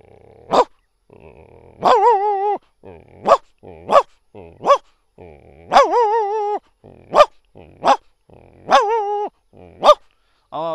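A man imitates a big dog barking with his voice, giving a series of deep, loud woofs and drawn-out growly barks in an irregular rhythm, close and alone.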